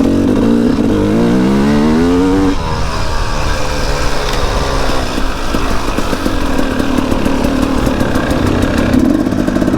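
A KTM 300XCW two-stroke dirt bike revs and idles on a single-track trail, its buzzy engine rising in pitch then settling into a rattly, loud, close drone.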